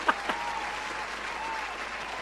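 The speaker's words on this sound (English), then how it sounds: "So, round of applause for me." A steady wash of crowd applause, fairly soft and even, with a couple of sharper claps right at the start and no voices over it.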